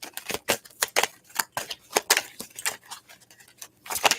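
Crisp papery riffles of tarot cards being shuffled, a quick series of sharp bursts close by with brief pauses, no talking.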